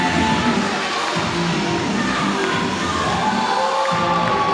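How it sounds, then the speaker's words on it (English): An indie wrestling crowd in a hall roars continuously during a wrestler's ring entrance, a dense, loud wash of cheering and noise without a break. "Crowd are absolutely buzzing here."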